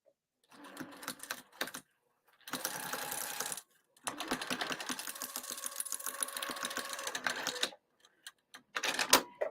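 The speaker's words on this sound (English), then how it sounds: "I'm going to sew the pocket closed. So I'm going to sew along here." Sewing machine at stitch length 3 closing a pocket on a cross body bag lining, with two steady runs of fast mechanical clatter broken by short pauses and handling clicks, close and fairly loud, no talk.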